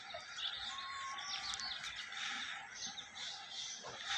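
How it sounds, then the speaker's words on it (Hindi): Pigeons kept for competitive flying give soft calls and chirps mixed with other bird sounds in an open outdoor setting, fairly faint and continuous with brief louder moments. "वड्डे कबूतर दी पट्ठी है"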